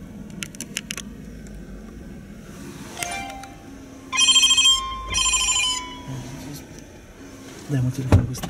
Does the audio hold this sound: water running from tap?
no